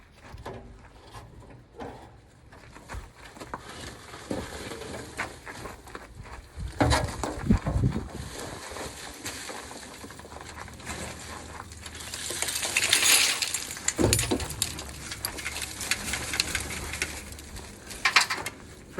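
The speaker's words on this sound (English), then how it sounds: "So I'm gonna pull this seat out now." A seat being pulled out of a 1965 21-window VW bus under restoration: scraping, clunking metal frame knocks and rattles, with louder bangs and a harsh sliding scrape partway through, close and alone without talk.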